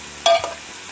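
Vegetables dropped into a hot pan for a cheesesteak give a short burst of sizzling and clatter that quickly settles into a quiet, steady fry.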